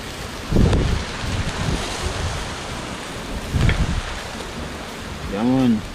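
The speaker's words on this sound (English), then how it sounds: "I hope you guys can hear me because the wind is like heavy," Heavy wind blows hard outdoors at a wood fire where jerk lamb is being basted, a steady low roar with gusts buffeting the microphone and a brief faint voice near the end.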